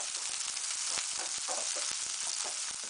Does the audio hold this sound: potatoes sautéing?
yes